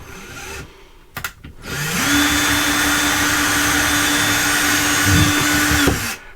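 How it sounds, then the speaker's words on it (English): A power drill with a masonry bit whines at a steady pitch for several seconds after a couple of brief clicks, drilling a pilot hole, then stops abruptly. "just going to drill a little pilot hole here using a masonry bit"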